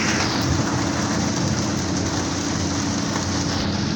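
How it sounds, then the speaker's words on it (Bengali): Heavy rain falls at a ferry ghat in Galachipa, a loud, constant wash of drops pattering on surfaces with a low rumbling undertone, steady from start to finish and free of talk. "দেখেন কি পরিমাণ বৃষ্টি হইতে আছে।"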